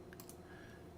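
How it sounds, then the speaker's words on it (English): A mechanical computer keyboard being typed on, giving a few quick, close clicks over a faint steady background hum. "It's a mechanical keyboard."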